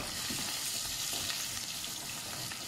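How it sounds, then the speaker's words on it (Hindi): Ginger garlic paste sizzles steadily in hot oil in a pan, a dense continuous frying hiss with faint stirring, close and even throughout, no voices. "दूसरी साइड पे मैं शामिल करने लगी हूँ जी ये अदरक लहसुन का पेस्ट"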